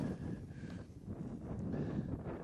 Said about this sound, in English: the wind's a bit all over the place